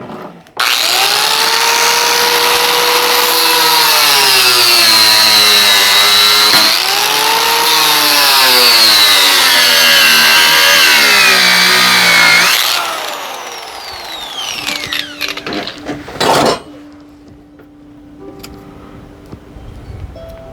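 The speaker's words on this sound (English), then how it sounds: "I will grind it apart." An angle grinder cuts into a sealed ceiling fan motor housing, a loud, sustained high whine with shifting pitch for about twelve seconds, then stopping and winding down with scattered metal scrapes and clatter.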